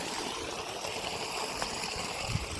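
Water pours steadily from the outlet of a 1500W BLDC borewell motor pump drawing from 170 feet, a continuous rushing flow with faint gurgles, moderately quiet and constant.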